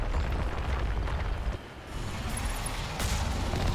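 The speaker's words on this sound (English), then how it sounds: "Oh, I missed. I missed a cannon shot." A cannon shot fires in the Mass Effect video game, a loud, dense, rumbling blast that swells, dips briefly, then surges again amid continuous game noise.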